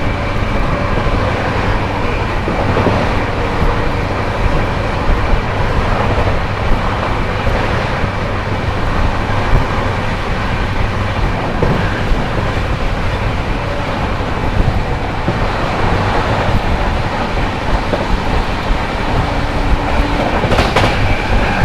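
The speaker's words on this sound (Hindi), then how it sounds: "सामने से आती हुई न्यू दिल्ली रांची गरीब रथ एक्सप्रेस" The New Delhi–Ranchi Garib Rath Express passes close by in a continuous loud rumble with rhythmic wheel clatter, steady for the whole stretch, with no voices.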